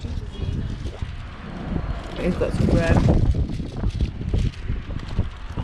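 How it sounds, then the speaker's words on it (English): Strong wind buffets the microphone outdoors at a stop during a group bike ride, a blustery rushing noise rising and falling throughout, with people talking over it. "Oh my god, it's so windy."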